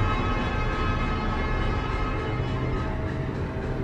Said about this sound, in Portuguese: E dava pra ouvir o trem acelerando na minha direção.